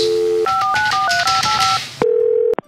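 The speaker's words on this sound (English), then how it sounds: "I'll be dialing at random here" A quick run of telephone keypad tones, short paired beeps in an uneven sequence, followed by a steady tone and a click.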